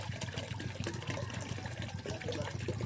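Water runs steadily into a container while 14 liters are measured out for making homemade dishwashing liquid, a close, continuous splashing trickle heard alone with no voices.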